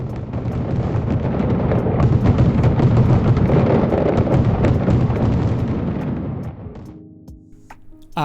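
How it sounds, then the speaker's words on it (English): Fireworks for France's National Day burst in a dense, continuous barrage of loud booms and crackling for several seconds, then fade out into quieter sparse pops near the end. "It was the National Day in France and I finished right on time to see the fireworks."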